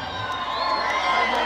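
Women in a crowd at a live tropical music concert shout and cheer, a brief burst of overlapping high voices and whoops, loud and close.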